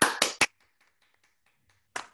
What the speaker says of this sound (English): So I would make it a real applause for Henriette.